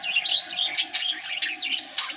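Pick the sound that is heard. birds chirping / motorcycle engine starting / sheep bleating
birds chirping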